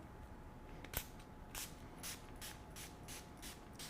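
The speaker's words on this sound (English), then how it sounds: "I'm going to give on the face a little spray of the final seal" Several short hissing spritzes of setting spray onto a face, a sharp one followed by a series of softer bursts at a steady pace, close and fairly quiet.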